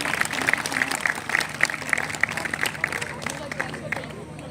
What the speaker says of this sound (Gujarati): ખૂબ સરસ ધીમે ધીમે તાળીઓ વધતી જાય છે